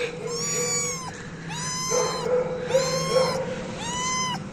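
A tiny abandoned kitten meows four times in a row, each cry drawn out and high-pitched, loud and close, with a faint steady hum underneath.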